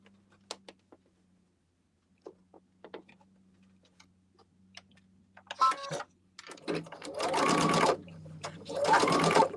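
A home sewing machine joins quilt blocks, starting after scattered clicks and handling taps with two loud, close bursts of fast, whirring stitching.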